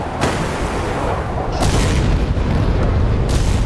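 A missile striking a ship in the Sea Power naval battle game, a Virginia versus Slava cruiser engagement, bursts into sustained booming explosion noise with three sharp impact onsets over a loud continuous rumble.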